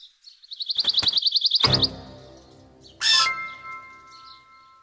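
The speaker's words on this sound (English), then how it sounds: "The bird chirped" Cartoon bird gives a fast run of rapid high chirps, then a sharp thump and a bright, ringing chirp-like tone that fades out. Sounds are clear and close, with no talking.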